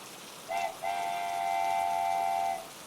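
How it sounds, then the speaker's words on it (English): A steam train whistle gives a short toot and then a long steady blast as the train arrives at a station, clear and fairly close, over a faint background hiss. "you hear the reassuring toot of the train's whistle, announcing its arrival"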